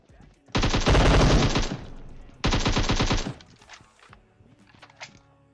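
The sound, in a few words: M762 rifle gunfire in PUBG Mobile video game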